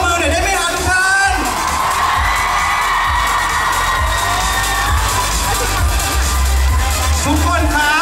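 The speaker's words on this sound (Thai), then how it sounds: "ขอเสียงปรบมือหน่อยได้ไหมครับทุกท่าน" Crowd cheering and whooping at a Bangkok fan meeting press event, a loud continuous roar of shouts and excited voices that holds steady from start to finish.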